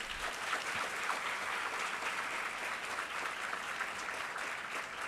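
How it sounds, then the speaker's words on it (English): Applause at a large chartered accountancy students' conference, a steady, dense patter of many hands clapping at a moderate distance, continuous with no talking over it. "Can you give them a loud applause?"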